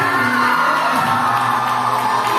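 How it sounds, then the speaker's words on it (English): A school awards ceremony crowd claps and cheers for a student prize winner, a dense, steady wash of applause with shouts and whoops throughout, loud and close. "clap for him"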